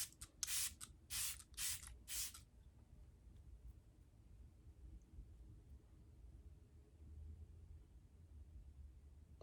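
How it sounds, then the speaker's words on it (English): Smashbox Photo Finish Primer Water misted from a pump bottle: four quick, close spritzes in a row, then near silence with faint room noise. "I'm going to use the Photo Finish Primer Water by Smashbox."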